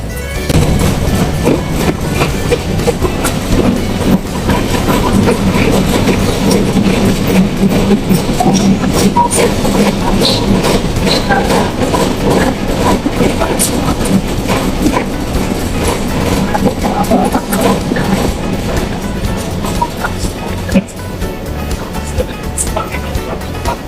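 Steady rumble and rattle of an LRT light rail train in motion in Manila, continuous and loud, with faint wheel clatter throughout.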